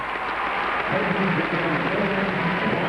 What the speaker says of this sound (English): Get some applause from the leaders.